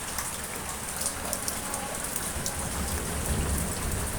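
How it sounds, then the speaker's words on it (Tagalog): Sudden heavy rain pours steadily outside a house gate in Batangas, a dense, loud, unbroken hiss of drops drumming on surfaces with no talking. "Biglang-bigla na naman po ang ulan"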